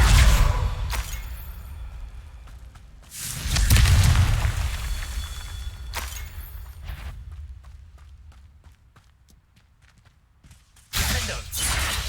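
Confringo fire spell blasts from the Hogwarts Legacy video game: several loud booming explosions spread apart in time, each a sharp burst trailing into a rumbling decay.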